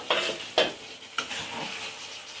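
A spoon stirs potatoes with fish roe and fish bladder simmering in a pot, making three distinct scraping knocks against the metal over a faint bubbling background.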